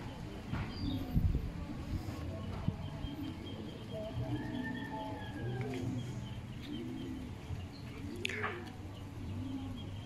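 A racing pigeon coos at a loft in Santa Ana, Cagayan. A series of soft, rounded coos repeats at intervals over a constant low background hum, with a sharp chirp or two.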